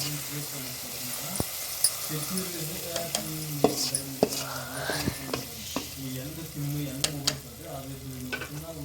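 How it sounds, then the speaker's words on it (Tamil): Cashews tempered in ghee are stirred into a pot of ven pongal, bringing a soft continuous sizzle with repeated ladle knocks and scrapes against the pot, close up and steady, while someone talks quietly over it. "நல்லா நெய்யில் வறுத்துட்டு குழம்பு கொட்டி கிளறலாம்."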